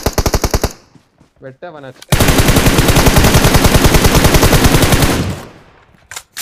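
Automatic gunfire in the mobile game Battlegrounds Mobile India: a short rapid burst, a pause with a brief voice, then a long sustained loud stream of rapid shots, and a final couple of shots.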